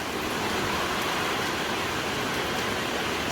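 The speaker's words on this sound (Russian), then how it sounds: "я дождик показываю для тех, кто любит дождь" Heavy rain pours down in a yard during a downpour with wind, a steady, dense hiss that stays loud and unbroken with no voices.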